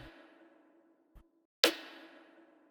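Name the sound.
layered snare and rimshot drum samples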